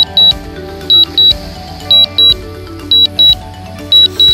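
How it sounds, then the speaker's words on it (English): A DJI drone remote controller beeps during return-to-home, sounding loud, high, paired warning tones that repeat at a steady rhythm over faint background noise. "This beeping noise is actually giving me a bit of like heart attack."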